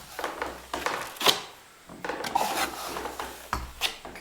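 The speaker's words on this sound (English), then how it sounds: "We're gonna kind of cheat, make it wider with just the 8-inch knife." An 8-inch drywall knife spreads joint compound across drywall in repeated scraping, rubbing strokes, each lasting about a second, close and moderately loud with short pauses between passes and no voices.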